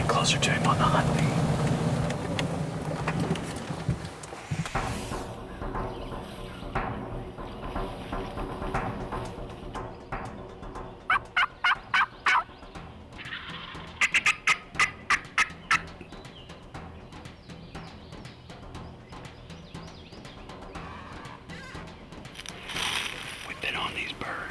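Wild turkeys gobble during a hunt in Iowa, with several sharp, rattling gobble bursts at middle distance in the second half. Quiet whispered talk runs under the birds throughout.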